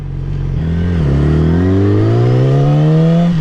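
A Yamaha R6 sport motorcycle engine revs loudly up close, its pitch dipping briefly at a gear shift and then climbing steadily again under acceleration, with no talking.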